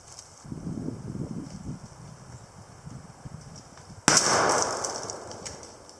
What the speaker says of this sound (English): I'm just gonna go have a shot at this one again at 50